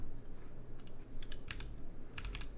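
Typing on an old-school, top-mount mechanical keyboard with O-rings, a big heavy square board, producing a steady run of soft, damped keystrokes close up, with no talking.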